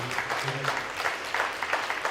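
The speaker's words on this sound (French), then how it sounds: "Je vous demande, non pas un tonnerre d'applaudissements, je vais vous demander de vous lever, parce qu'il le mérite." A cabaret audience at a Télévie charity show in Orp-Le-Grand gives Gervais a standing ovation, with continuous dense clapping and a few voices and a short tone mixed in.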